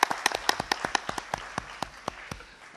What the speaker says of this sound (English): A big round of applause again to him.